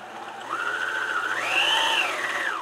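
A sewing machine winds thread onto a bobbin with a steady, close motor whir that climbs in pitch partway through and holds high to the end, with no talking.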